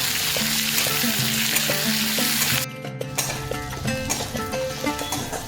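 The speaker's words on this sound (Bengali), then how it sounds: "তারপরে আমরা পেঁয়াজ কুচি কটা দিয়ে দিলাম। তারপরে এগুলোকে ভালো করে ভাজবো।" Chopped onions fry in a pan with a constant loud sizzle that dips briefly partway through, while steady tonal background music plays underneath.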